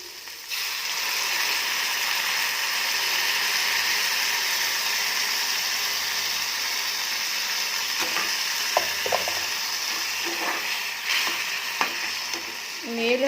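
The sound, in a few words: tamarind juice added to sizzling tempering, stirred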